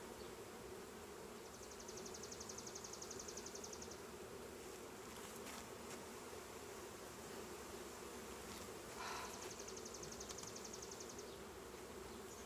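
Honey bees buzz steadily around an open hive during an inspection, a faint, continuous drone with a few insects passing closer to the microphone.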